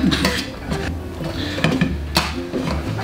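Cooked potatoes for aligot worked through a metal food mill, giving a busy run of scraping, clinking and knocking metal-on-pot sounds close by, with brief sharper clanks.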